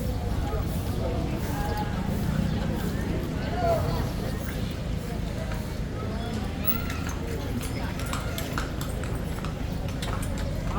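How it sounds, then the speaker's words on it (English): Steady clip-clop of horse hooves pulling a tourist carriage through the walled city of Intramuros in Manila, mixed into continuous street bustle and crowd noise. "You can get tours in the horse carriages."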